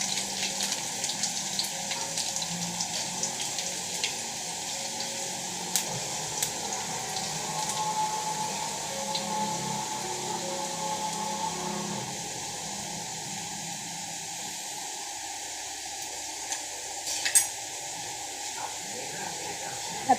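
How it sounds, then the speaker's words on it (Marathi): Cumin, mustard seeds and garlic sizzle in hot oil for a Maharashtrian kadhi, giving a steady close hiss and crackle that carries on throughout at moderate volume with no talk. "आता आपण याच्यात जिरं घालू, मोहरी पण घालायची लगेचच लसूण पण टाकून घ्यायचं आहे."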